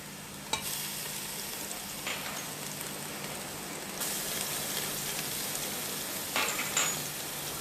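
Garlic-ginger paste sizzles and spatters steadily in a hot pan, a continuous crackling hiss with occasional stirring scrapes, close by and without speech.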